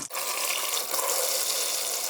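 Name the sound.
water running while draining boiled potatoes in a colander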